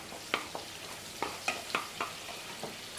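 Soy sauce goes into chilli gobi (cauliflower) frying in a pan, bringing a soft continuous sizzle broken by several sharp clicks and scrapes of stirring, all close and fairly quiet.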